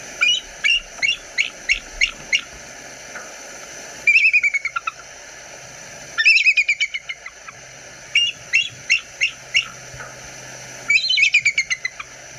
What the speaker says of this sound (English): I'm gonna find a clip of a bald eagle sound and clip it in